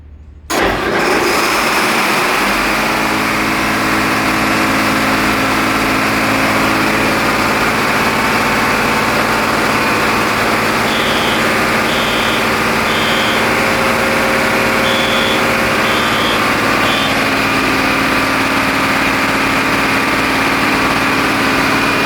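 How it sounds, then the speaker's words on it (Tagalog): A diesel engine driving a fire pump starts with a sharp burst, then runs at a steady, loud, unbroken drone close by for the full test run, with no talk over it. "Let's test run the diesel engine."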